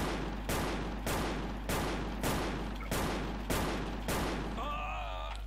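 A gun being tried out in the shooter game Wolfteam fires a steady series of about eight loud, evenly spaced shots, each trailing into a short decay, before a brief tonal sound at the end.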